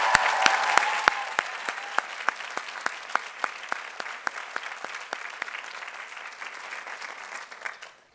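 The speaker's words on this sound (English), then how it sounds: "So let's give them a round of applause as well" Commencement audience at the 2011 Scripps College ceremony breaks into applause, a dense wash of clapping with sharp individual claps standing out, loudest at the start and thinning toward the end.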